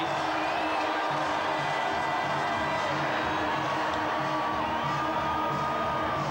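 A dense rugby crowd roars and cheers at Crusader Stadium during the 2002 Super Rugby Final between the Crusaders and Brumbies, a steady, loud wash of voices and whoops that carries unbroken from start to finish.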